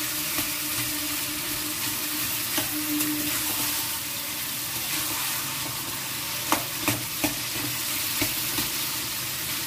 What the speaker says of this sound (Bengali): এইভাবে ঘেঁটে নিয়েই রান্না করি আমরা